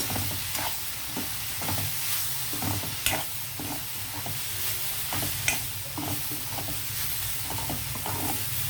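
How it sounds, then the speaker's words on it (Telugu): Spice powders, including pepper powder, being stirred into vegetables and chicken in a pan for a chicken roll: a steady low sizzle broken by repeated scraping strokes of the spoon, close and fairly quiet. "ఇవన్నీ ఒకసారి కలుపుదాం మనం వేసిన పొడులన్నీ"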